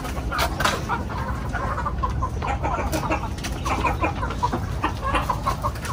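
Chinese Silkie chickens cluck and chatter at a heritage and native chicken farm, a dense, continuous flock of overlapping clucks and calls heard close up with steady background noise.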